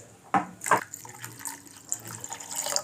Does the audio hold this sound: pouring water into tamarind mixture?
yes